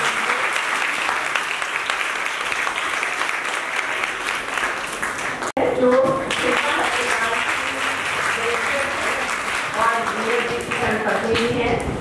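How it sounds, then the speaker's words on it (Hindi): An auditorium audience claps loudly to welcome the chief guest at a college event, dense sustained applause that briefly dips midway and then swells again, while a voice speaks over it. "आप लोग उनका स्वागत बहुत तालियों से करते हैं।"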